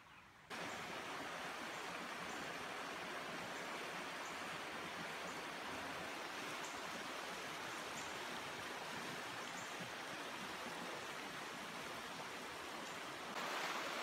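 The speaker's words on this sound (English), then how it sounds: "All right, I've reached the creek." Creek water flows steadily beside a steep hiking trail, a continuous broadband rush that stays even and fairly close for the whole stretch with no talk.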